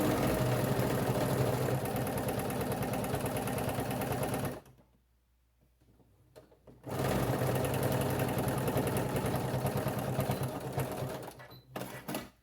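A sewing machine stitches an infinity scarf closed in a fast, buzzing run of stitches. It stops for a couple of seconds of near silence, then starts again and runs before ending in short bursts.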